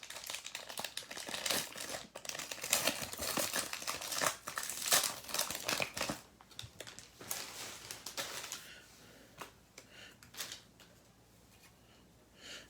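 A pack of NBA trading cards is torn open and handled close up, with dense crinkling and ripping foil wrapper for several seconds that settles into softer, sparser rustles near the end.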